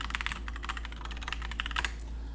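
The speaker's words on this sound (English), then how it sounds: "typing incoming" Rapid clicking of computer keyboard keys in an uneven, steady run of close, crisp strokes, heard on its own over a low electrical hum.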